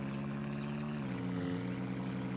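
A video game helicopter drones loudly and close, its steady rotor and engine hum shifting slightly in pitch partway through, with no talk.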